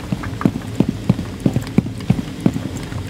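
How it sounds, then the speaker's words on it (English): Footsteps in the game Rainbow Six Siege, a steady series of about a dozen close, evenly spaced thuds over a low ambient hum. "only now the footsteps became noticeable."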